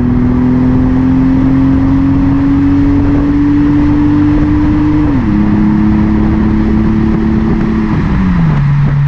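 A Toyota Supra with a suspected turbo solenoid problem drones loudly from inside as it accelerates, its engine note climbing steadily, then dropping sharply with each of two gear shifts.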